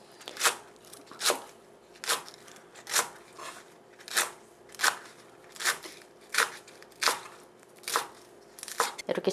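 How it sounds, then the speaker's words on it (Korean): A knife finely chopping green onion (daepa) on a cutting board, with about twelve crisp, evenly spaced chops in a steady rhythm, close and clear with no talking. "저는 주로 이렇게 쫑쫑 썰어요."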